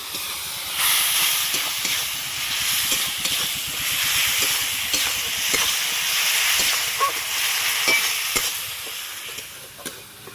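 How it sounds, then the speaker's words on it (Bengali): Spice paste of chilli, cumin and coriander powders frying in a pan with a little water, a loud, close, steady sizzle and steamy hiss with rhythmic scraping ticks from stirring throughout, no voices. "দিয়ে দেবো অল্প একটু জল, দিয়ে মশলাটা আমি কষে নেব"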